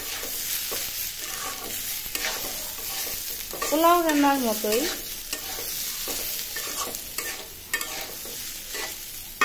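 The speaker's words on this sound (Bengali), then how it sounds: "ভাজা ভাজা করতে হবে" Chopped onions frying in a pan with salt and turmeric, stirred steadily, a continuous soft sizzle with scraping strokes of a spoon, close by, while someone speaks over it.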